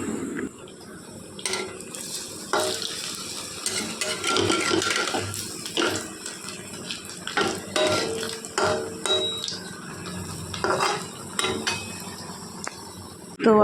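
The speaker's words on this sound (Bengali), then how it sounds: "তার জন্য আমি এখন আলুটা ভালো করে কড়াতে নেড়ে নিচ্ছি।" Potatoes stirred in a wok, with repeated metallic clanks and scrapes of a utensil against the pan in irregular bursts over a faint background hiss.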